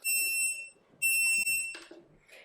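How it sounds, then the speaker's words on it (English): A rosin press timer beeps in two long, shrill tones separated by a short pause, close and loud, with faint handling noise between and after the tones. "the beeper timer went off"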